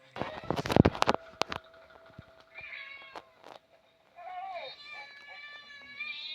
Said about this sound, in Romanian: E o pisică sacră din Birmania. Pare flămândă.